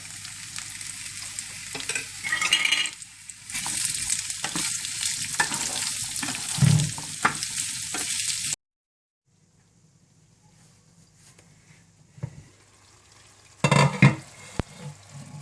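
Minced meat keema cooking with tomatoes in a pan, sizzling and frying steadily with scraping spoon strokes for about eight seconds, then near silence broken by a couple of sharp clanks of a utensil.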